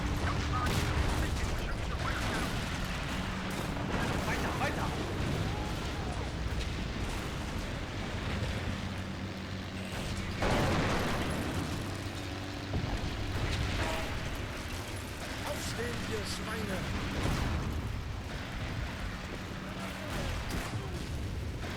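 Gunfire and artillery from the Sudden Strike 2 World War II strategy game with the Hidden Stroke mod, dense continuous battle noise with repeated blasts and bursts throughout, a voice talking over it.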